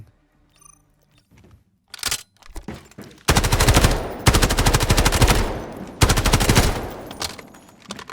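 A CI 19 gun fires in the Delta Force video game: a few short shots, then long rapid bursts of loud, close automatic fire separated by brief pauses, with no talking.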